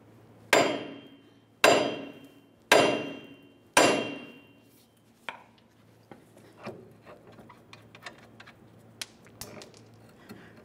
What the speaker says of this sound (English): Now we'll use a hammer down along the bottom of the knuckle where it connects to that lower ball joint.